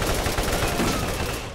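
Enemy gunfire in the Borderlands shooter game, a rapid, loud burst of overlapping shots packed tightly together.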